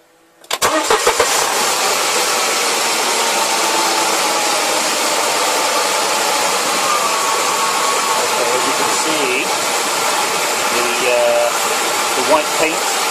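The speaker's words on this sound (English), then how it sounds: "So let's start the engine." A supercharged Mercedes CLK/SLK engine cranks briefly and catches, then settles into a loud, steady idle with a whining hum that runs unbroken to the end, heard up close.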